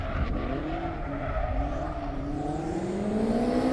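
Two Mazda MX-5 race cars driving on a track, engines revving and rising in pitch as they accelerate, with tyre squeal mixed in, loud and continuous with no talk.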